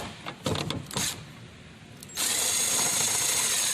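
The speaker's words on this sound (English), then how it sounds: "let's go ahead and get these nuts off" A power tool whirs in short bursts, then runs steadily and loudly, removing a taillight housing nut on a 2014 Toyota Camry during a taillight housing replacement.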